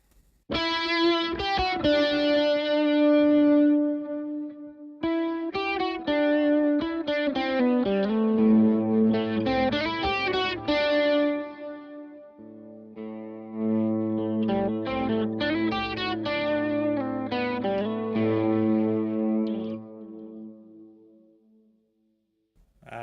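Electric guitar heavily overdriven through stacked overdrive pedals on a pedalboard, playing chords and riffs, thick and saturated with sustained notes, two phrases separated by a short pause, no talking.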